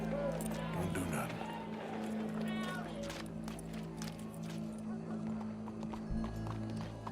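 Horse hooves clip-clop in Red Dead Redemption 2, a steady trotting rhythm under a low droning game soundtrack, with occasional faint voices and other ambient game sounds.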